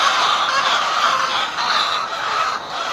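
Agitated, hungry laying hens squawk and cackle together in a loud, continuous, overlapping chorus close by, with no talking.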